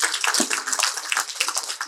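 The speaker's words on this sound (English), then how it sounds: "I think we all deserve to give ourselves a round of applause" An audience at a book launch gives a round of applause, a dense, steady patter of many hands clapping together.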